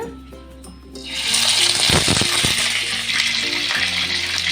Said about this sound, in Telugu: కడిగిన చికెన్ని శుభ్రంగా కడుక్కుని చికెన్ వేసుకోవాలి ఇది ఇలాగా కొంచెం చిటపట్లు ఆడుతుంది